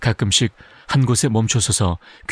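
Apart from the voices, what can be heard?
None of the usual background noises is heard.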